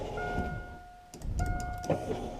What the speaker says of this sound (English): Car's on. Window goes down.